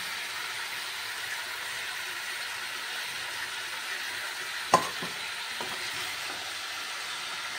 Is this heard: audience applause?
no